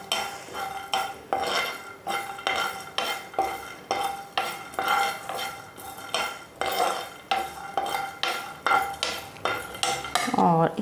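A spoon scrapes and clinks rhythmically against a pan while vada pav filling roasts, with steady repeated stirring strokes close up and a faint sizzle underneath, with no talking.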